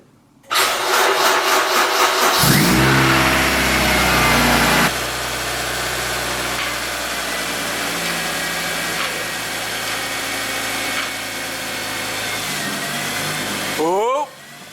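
A Honda K20-swapped EF car starts up and pulls away under its own power, a loud engine rising then settling into a steady mid-pitched drone for several seconds before a brief burst at the end.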